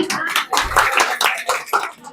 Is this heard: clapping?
yes